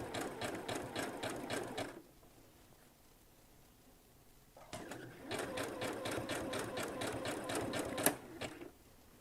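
A sewing machine runs in two rapid bursts of stitching with a longer stitch length, separated by a quiet pause of a couple of seconds, each burst close and clattering.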